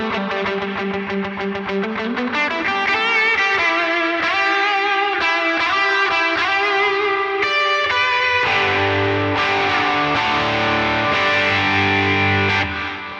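Distorted electric guitar lead tone runs through an HX Stomp with the Searchlights reverb, playing sustained melodic notes and bends with a wet, shimmering tail, loud and continuous with no talking.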